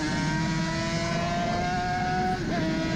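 Suzuki RG500 two-stroke racing motorcycle at the Isle of Man Classic, recorded onboard with cool tyres early in a lap: a loud, steady high-pitched engine drone held near 11,000 rpm, with a brief throttle dip near the end.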